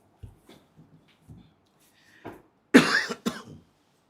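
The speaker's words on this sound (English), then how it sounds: "Why today I'm coughing like this?" A person coughs indoors: a few faint throat sounds and small huffs first, then a loud, close burst of two or three harsh coughs near the end.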